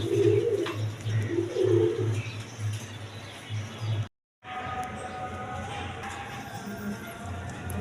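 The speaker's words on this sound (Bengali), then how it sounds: "এখানে এক পেয়ার মাল্টেস কবুতর আছে" A pair of large Maltese pigeons coo nearby in a series of low, throaty, rhythmic calls, strongest early on, then a brief dropout followed by a quieter stretch of background noise.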